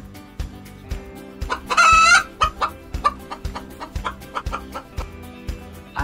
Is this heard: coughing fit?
no